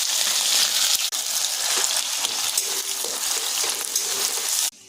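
Onions hit hot oil in a pan with bay leaf, sending up a loud, dense, close sizzle that holds steady with small crackles before cutting off abruptly near the end.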